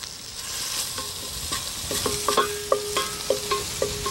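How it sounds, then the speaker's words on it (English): Spoon stirring ground coriander and cumin powder with salt lightly sautéing in a hot pan, a soft sizzle broken by several sharp scraping clinks in an uneven rhythm, close and moderately quiet, no voices. "So let's just saute this lightly."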